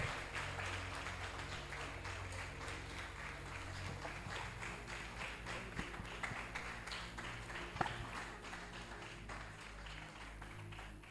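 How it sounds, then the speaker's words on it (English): Steady audience applause fills a TEDx talk hall, a dense wash of clapping that holds at an even level throughout with no voices standing out. "Please keep clapping."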